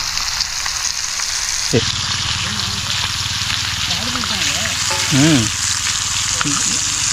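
Small fish fry in a pan with a loud, continuous sizzle and hiss close by. A person talks over the frying for most of the stretch.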